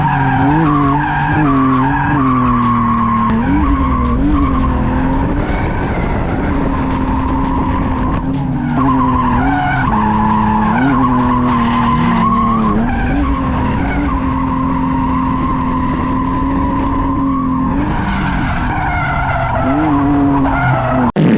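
BMW E46 wagon fitted with an angle kit drifting on a drift day, tires screeching loudly and continuously while the engine revs rise and fall with each flick, close and intense.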